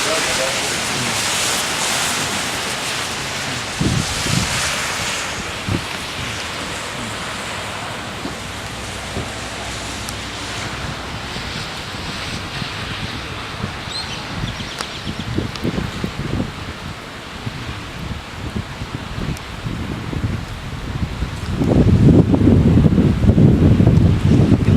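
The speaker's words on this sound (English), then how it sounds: "Comes that wind." Strong wind from a severe storm with tornadic rotation buffets the microphone in steady broadband rushing, swelling into louder close gusts near the end.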